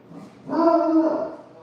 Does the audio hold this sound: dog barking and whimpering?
yes